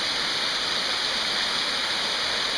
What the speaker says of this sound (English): We need more falling water.